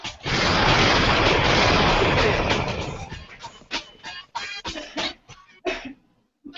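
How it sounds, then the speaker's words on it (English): A big rumbling explosion blast with a long roaring tail that breaks into scattered crackling debris sounds before fading to near silence. "I had to add that extra explosion at the end."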